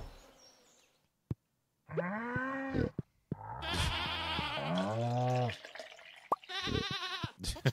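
Goats in Stardew Valley bleat in a series of loud, wavering cries, several overlapping, with short gaps and a faint drip-like tick between them.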